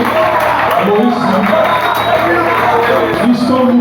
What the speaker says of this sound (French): beaucoup d'acclamations pour notre frère Maurice